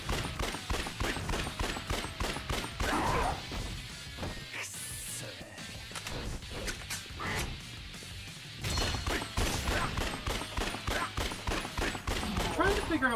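Gunfire in the video game Yakuza: Dead Souls, with bursts of rapid shots and crashing impacts in dense clusters, a brief lull in the middle, then renewed firing, loud and close.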